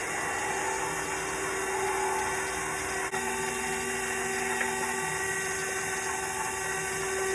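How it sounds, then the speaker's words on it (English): A steady, moderately loud electric mixer hums continuously, beating hot icing syrup into egg whites for a coconut cake icing, with no talk over the even whirring. "I'm gonna start the mixer and I'm gonna start pouring this into the egg whites."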